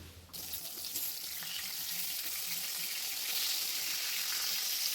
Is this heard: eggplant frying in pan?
yes